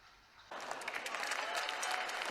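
An audience bursts into applause after a brief quiet moment, a dense, steady wash of clapping that holds at full strength until the end.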